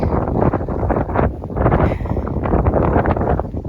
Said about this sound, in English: Here's breezy.